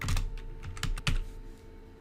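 Fingers type quickly on a computer keyboard, a close run of crisp clicking keystrokes over a steady low hum, with no speech.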